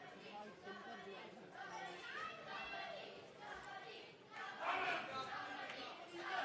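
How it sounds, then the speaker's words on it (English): Children cheer and chatter at a Kabaddi World Cup match in England, a busy crowd din rising and falling steadily, swelling louder near the end, with voices mixed throughout. "you can hear your kids cheering in the background"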